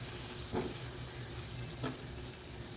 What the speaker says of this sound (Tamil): தண்ணி கொதிக்குது இந்த தக்காளியை போட்டலாம்